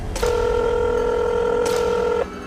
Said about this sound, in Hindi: उसने डॉक्टर का प्रिस्क्रिप्शन निकाला और उस पे लिखे फोन नंबर पर कॉल करने लगी।